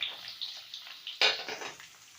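Onion and pepper stirred in a pan for a chicken and liver dish, with scattered metallic clinks of a utensil scraping the pan and a soft sizzle underneath, one sharper scrape standing out midway.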